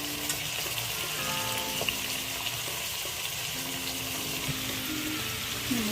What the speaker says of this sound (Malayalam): മൂന്ന് ടേബിൾ സ്പൂണോളം വരുന്ന വെളിച്ചെണ്ണ ഒഴിച്ച് കൊടുക്കാം അതിലേക്ക് നമ്മുടെ ചിക്കനെ ചേർത്ത് കൊടുക്കാം